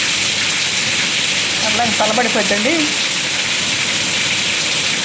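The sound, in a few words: heavy rain falling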